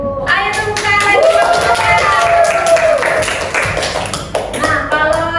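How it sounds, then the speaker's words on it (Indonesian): A classroom of students claps for a classmate, a lively burst of individual hand claps mixed with children's voices speaking over it, close and fairly loud. "Ayo tepuk tangan lagi."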